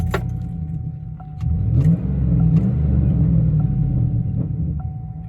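A small engine fitted with a Mikuni clone carburetor, warm from earlier running, idles with a close, steady low rumble that swells slightly partway through, accompanied by light clinking and no talking.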